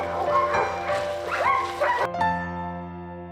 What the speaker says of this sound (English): pulled through the forest by 16 happy huskies and getting cuddles from their pups